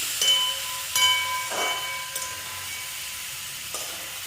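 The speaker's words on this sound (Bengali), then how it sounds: "এইবার সবগুলো একসাথে নাড়াচাড়া করে মিক্সড করে দিচ্ছি" Boiled potatoes being stirred and fried in a pan with a little oil for Bengali aloo dum: a soft steady sizzle broken by a few scraping strokes of a spatula, close and fairly quiet, no voices.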